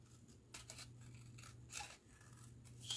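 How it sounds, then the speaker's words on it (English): Scissors cut Stamperia craft paper for a small shabby-chic minibook. Several quiet crisp snips and slicing strokes come in uneven bursts close to the microphone over a low background hum. "but I'll just use my scissors."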